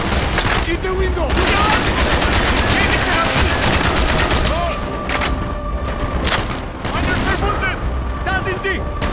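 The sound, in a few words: machine gun gunfire in Call of Duty: Black Ops video game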